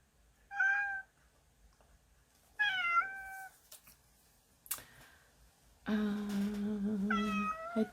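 A cat meows three times in a quiet room: two short, clear calls, then a longer, drawn-out meow near the end, with a faint tick between them.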